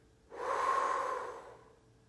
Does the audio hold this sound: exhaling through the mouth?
yes